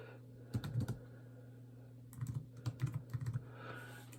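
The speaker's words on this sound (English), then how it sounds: "I'm going to type this out so I don't screw up" Quick bursts of keystrokes clatter on a computer keyboard in a quiet room, a few short clusters of taps separated by pauses over a steady low hum.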